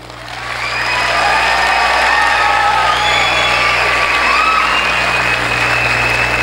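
Studio audience at a televised stand-up comedy grand finale breaks into sustained loud applause, swelling within the first second and holding steady with scattered cheers and whoops throughout.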